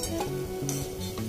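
Kucho pakoras sizzle in hot oil, a steady close frying hiss with faint stirring clinks and a low background hum, no talking.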